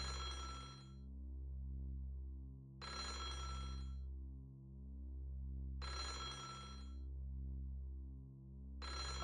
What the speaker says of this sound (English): The phone with the cord that had been cut was ringing.